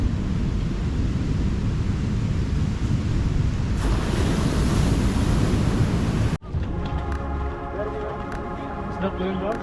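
Big ocean waves breaking on a Bali shore, a loud, continuous roaring wash with heavy wind buffeting the microphone, cutting off abruptly near the end into a quieter, clearer surf.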